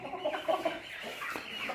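A few chickens cluck in short, bright bursts close by, a quick cluster of calls followed by softer background clucking.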